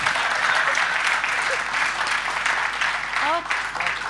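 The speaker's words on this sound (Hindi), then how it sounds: "तालियां" Audience applause at a Hindi poetry recital, continuous, fairly loud clapping from a crowd with a few voices calling out over it.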